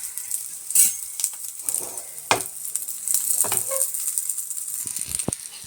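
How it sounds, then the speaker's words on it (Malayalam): A prawn burger patty fries in shallow oil in a pan, crackling and sizzling up close with intermittent sharp spatters and light clinks of a utensil against the pan. "ഒത്തിരി നമ്മൾ വറുത്തൊന്നും ഇതെടുക്കണ്ട, ചെറിയ രീതിയിൽ അപ്പുറവും ഇപ്പുറവും ഒന്ന് ചെറിയ രീതിയിലൊന്ന് മൂത്ത് കിട്ടിയാൽ മതി"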